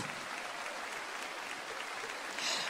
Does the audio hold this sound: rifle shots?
no